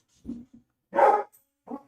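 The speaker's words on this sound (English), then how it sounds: "Apologies for the barking." A dog barks three times in quick succession, sharp and close, with short silent gaps between the barks.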